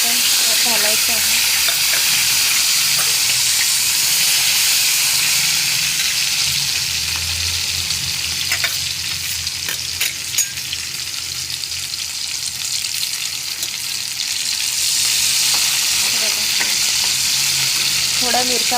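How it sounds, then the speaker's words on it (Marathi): Green chillies and fresh garlic sizzle and fry in hot oil with cumin and mustard seeds, a loud, steady close-up hiss running the whole time with occasional stirring scrapes. "तेलामध्ये जिरं मोहरी छान झाल्यावर आपल्याला हे मिरच्या आणि ओलं लसूण घालायचं आहे।"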